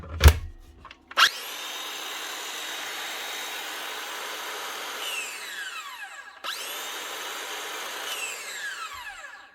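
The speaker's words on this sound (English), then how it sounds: "One Makita DSS611 18-volt cordless skill saw, up and running again with a new controller." A Makita DSS611 18-volt cordless circular saw, newly fitted with a controller, whirs up sharply, spins steadily for several seconds, winds down with a falling pitch, then starts again and spins down once more, close and loud with no talking.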